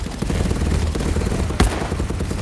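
Submachine guns fire in the Contractors VR video game, a dense, continuous rattle of rapid shots with one louder report near the end.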